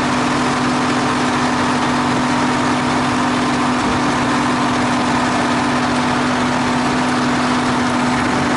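A T-150K tractor's engine idles loudly and close, a steady low rumble with a constant hum and no change in pace, no voices.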